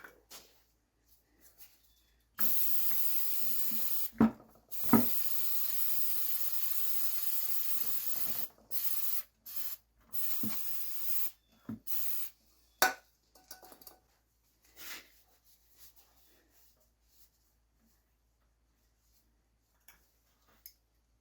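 A hissing aerosol grease spray, applied to a Maverick X3 axle spline and wheel bearing, sounds in one long burst, then a few shorter spurts, close by, with faint clinks and rustles between.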